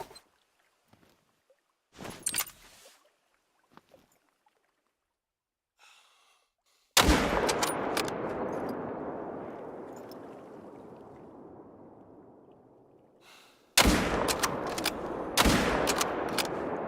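Hunting rifle shots in theHunter: Call of the Wild: sharp loud cracks near the start, a big blast with a long rolling echo decaying for several seconds, then another loud shot with a similar echoing tail.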